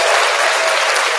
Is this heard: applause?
yes